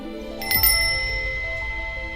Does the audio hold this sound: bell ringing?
yes